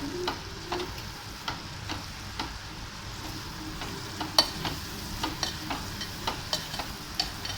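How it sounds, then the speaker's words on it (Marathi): Carrot halwa with cardamom powder is stirred in a pan, a soft continuous sizzle with a faint, regular scraping tick of the spoon on the pan's base, quiet and close with no talking. "सो आता पुन्हा एकदा ह्याला व्यवस्थित मिक्स करून घेऊया।"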